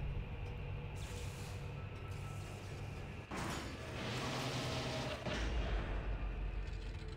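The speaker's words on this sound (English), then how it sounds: "Those explosions are kinda all in my face" Explosions rumble through a spaceship in Dead Space during a fuel containment failure, deep booming blasts and roaring bursts rolling in one after another, loud and close with a heavy low rumble building toward the end.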